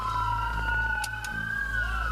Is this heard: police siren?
yes